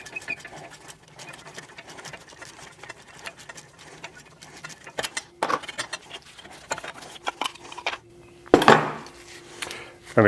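Brake caliper bolts on a classic Jeep Wagoneer being worked loose with a 3/8 Allen wrench: irregular metallic clicks, ratcheting taps and scraping, close up, with a louder clatter near the end.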